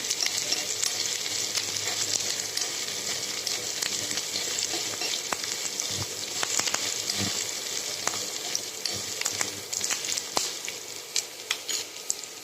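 Onions frying for khichdi with turmeric, black masala and homemade khichdi spice mix, giving a continuous close sizzle broken by scattered clicks and scrapes of stirring, with no voices.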